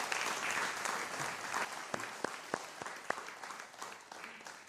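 An audience at a Tamil New Year debate event claps to welcome a speaker: dense, sustained applause from a crowd that thins into a few sharp, distinct claps and then tapers off.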